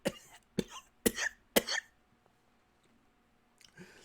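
A voice imitates a character choking on water: four sharp, loud coughing gasps in quick succession, a pause, then a fainter sputter at the end.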